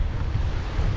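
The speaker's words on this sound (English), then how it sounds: "rather windy" Strong wind by the sea off Whale Island, Vietnam, roars in a loud, constant low rumble buffeting the microphone, with surf washing underneath.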